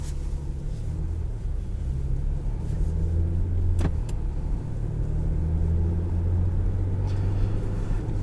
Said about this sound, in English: let's take this thing out on the road and see what it's like to drive